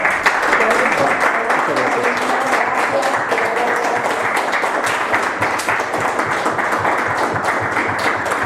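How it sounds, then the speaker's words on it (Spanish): An audience at a conference question-and-answer session gives loud, sustained applause, a thick continuous roar of many hands clapping for over eight seconds. "le brindamos un fuerte aplauso."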